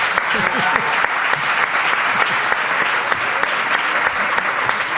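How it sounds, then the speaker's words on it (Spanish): Loud, sustained applause fills the room as a live audience honours a guest, an even wash of clapping with voices faintly mixed in. "un aplauso para Jesús Callejo, por favor"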